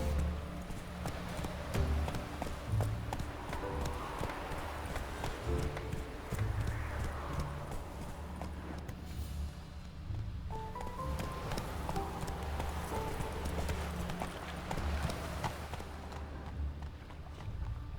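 Roach the horse galloping in The Witcher 3, hooves drumming in a fast repeated clip-clop, with music and game effects underneath and a voice briefly urging the horse on.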